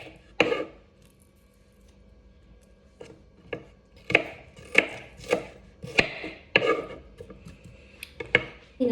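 A knife chopping food on a cutting board while making pasta with chicken, a series of about a dozen sharp, crisp knocks at an uneven pace, close and clear in a quiet kitchen with no talking.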